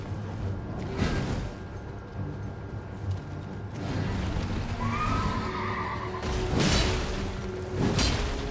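A horse neighs in a video game boss battle against the mounted Night's Cavalry. Whinnies rise over dense, noisy combat sound with whooshes and clattering hooves, loudest near the middle and again near the end.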